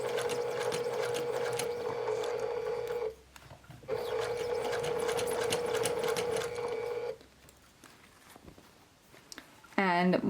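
Sewing machine stitching fabric for a round drawstring bag, two long runs of fast, steady mechanical whirring separated by a short pause, then a quieter stretch and a brief higher whine at the end; a voice talks alongside.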